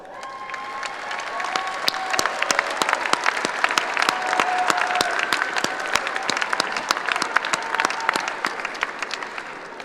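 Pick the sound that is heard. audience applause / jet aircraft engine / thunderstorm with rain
audience applause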